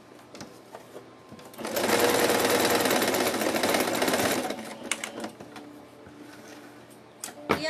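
A sewing machine stitching two small fabric ears for a craft toy, whirring loudly and steadily for a couple of seconds at close range, with handling clicks and small rattles before and after.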